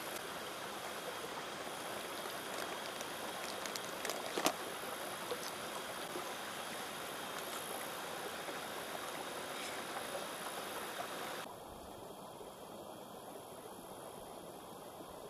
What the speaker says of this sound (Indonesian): Temenin suara gemericik air